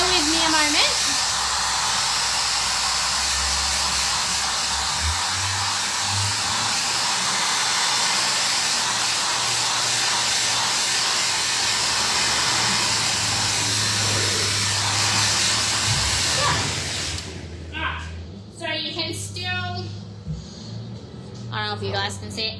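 A hair dryer blows loud and steady close by, drying paint on a bedside table, then cuts off near the end as a voice speaks briefly.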